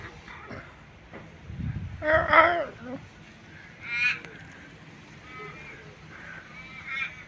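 An Australian crow calls outdoors with a few harsh, drawn-out nasal caws spread across a quiet background, one strong call near the start and fainter ones following.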